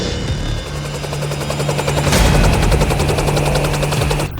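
A helicopter's rotor thumps in a fast, steady chop, loud and close, with a roaring whine beneath it throughout.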